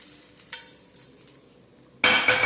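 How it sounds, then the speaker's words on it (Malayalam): Hot tempering poured into rava dosa batter, with a few light clinks of a pan and spoon followed by a sudden loud hissing sizzle near the end. "ഇനിയിപ്പോൾ നമ്മുടെ ഈ വറവ് മാവിലേക്ക് അങ്ങോട്ട് ഇട്ട് കൊടുക്കാം"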